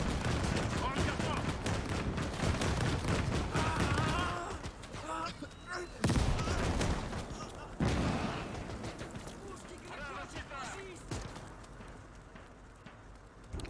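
A 20mm gun fires repeatedly in the World War II game Call to Arms during a Soviet advance in 1944. Bursts of rapid gunfire pile into a dense fusillade at mid distance, and voices talk over the shooting.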